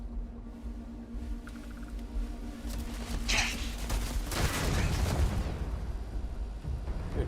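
Gunfire in the video game Starfield comes as a rapid burst of shots and explosive booms that swell in the middle and fade, with game sound underneath and no clear talking.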